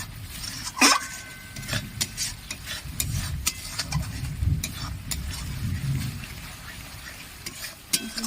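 A masala for Bengali rui fish poppy seed curry is sautéed in a pan, with a low steady sizzle under repeated sharp spatula scrapes and stirring strokes, close by and with no talk.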